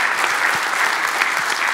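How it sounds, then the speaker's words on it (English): Steady applause from the audience at a design firm talk on virtual reality, a dense wash of clapping that stays even and full for the whole stretch with no voices on top. "Let's give this guy a round of applause."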